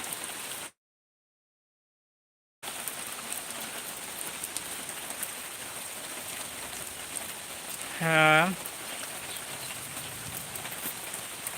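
Steady rain, the first of the Baishakh season, hisses and patters on surfaces, a constant close wash of sound, briefly cut out, with a short voice near the end.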